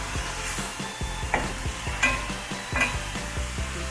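Spam and shredded potato with garlic frying in a pan, a spatula stirring and scraping in repeated quick strokes over a soft steady sizzle, close and fairly quiet, no voices.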